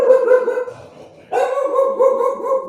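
A dog indoors letting out sustained, whiny barking howls, loud and close, in two drawn-out bursts separated by a brief pause.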